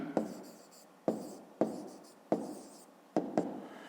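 Pen writing out answers to a fifth-grade math divisibility exercise on paper, heard as short scratchy strokes in quick bursts, five or six separate writing spells with pauses between, close and fairly quiet.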